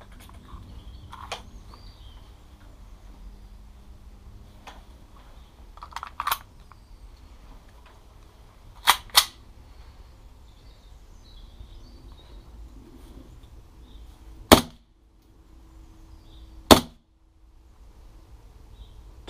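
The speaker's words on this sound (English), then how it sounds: "now I'm gonna test it with my HPA" WE double-barrel 1911 gas blowback airsoft pistol firing on an HPA magazine: a few sharp, isolated cracks of fire spread over a quiet stretch, some of them in quick pairs, with no talk.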